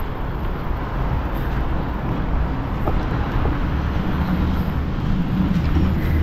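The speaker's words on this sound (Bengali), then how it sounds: "এখানে এখনো পর্যন্ত ট্রাম চলে, দেখো ট্রাম চলছে" Tram running along a winter street in the Siberian city of Omsk, Russia, a continuous low rolling rumble mixed with general traffic noise, steady and fairly loud throughout, with no talking.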